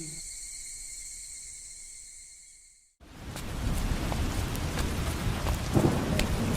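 After a brief high electronic tone fades out, steady heavy rain pours down, dense and constant, with a faint rumble beneath.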